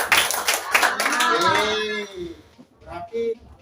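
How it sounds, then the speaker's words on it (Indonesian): Schoolchildren in a classroom clap together in a short burst of quick, close hand claps, then a voice rises over the fading claps. "Oke, tepuk tangan."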